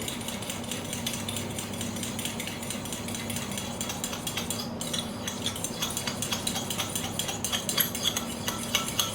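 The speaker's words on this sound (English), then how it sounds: "We're just going to mix, mix, mix until it's smooth." Coleslaw dressing is stirred briskly in a bowl, making a close, continuous scraping and swishing with a faint rhythmic clink of the utensil against the bowl.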